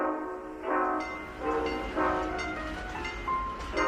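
A vintage-style tram rolls through a film-studio street set recreating old Shanghai, sounding repeated tonal horn blasts in short bursts roughly every half second over a steady rolling rumble, fairly close and with no talk.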